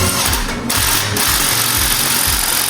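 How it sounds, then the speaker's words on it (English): An impact tool or power tool running steadily and loudly while the factory crank pulley bolt is removed from a C6 Corvette, a continuous whirring buzz with a few brief dips and pulses, close up and with no talk. "Took the crank pulley bolt out, and now we are removing the factory bolt"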